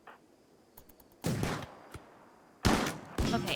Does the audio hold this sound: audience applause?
no